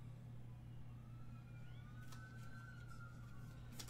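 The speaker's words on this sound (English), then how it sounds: "that's ambulances slash fire slash cops flying down my street today" Emergency vehicle sirens passing on a street, faint and distant wailing tones rising and falling over a steady low hum indoors.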